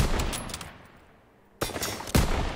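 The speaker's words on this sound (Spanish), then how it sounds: "estoy disparando al foco" Gunfire in the video game Call of Duty WW2, sounding as a loud burst of rapid shots that fades to near quiet, then two sharp, close volleys near the end.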